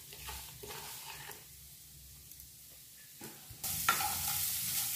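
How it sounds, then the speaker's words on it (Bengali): Scraping and stirring a coconut and sugar filling in a hot wok with soft sizzling, irregular strokes close up, growing to a louder hiss near the end. "নারকেল দিয়ে চিনি দিয়ে মাখানো যেটা, সেটা আমি কড়াইতে দিয়ে দিচ্ছি।"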